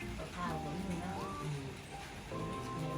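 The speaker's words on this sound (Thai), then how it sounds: "มันก็เย็นนะพี่น้องมันฝนตก" Rain falls steadily as a constant soft hiss underneath people talking nearby.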